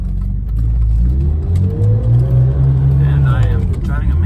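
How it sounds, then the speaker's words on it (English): Secondary air pump whirring on a 1991 BMW M5, a rising and falling mechanical whir tied to engine speed beneath a steady engine drone in the car, with voices talking over it. "That is the secondary air pump."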